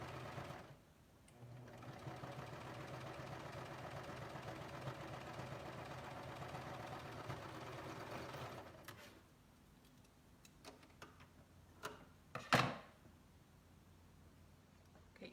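A sewing machine runs steadily for about eight seconds while top stitching the neckline of a dress, then stops. A few soft clicks and handling taps follow, with one sharper knock near the end.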